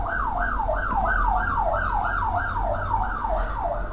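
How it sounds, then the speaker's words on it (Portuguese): A wailing emergency siren sweeps steadily up and down in repeated cycles, loud and continuous over a low rumble, played as a sound effect with no talk. "Deixa eu passar só a sirene chata"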